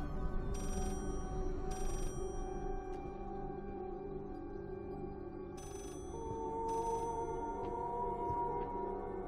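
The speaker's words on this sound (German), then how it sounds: "das Telefon klingelt immer noch" A telephone rings in the horror video game Layers of Fear, repeated bursts of bright trilling bell tones at a steady interval over a low eerie ambient drone, moderately loud and with no voices.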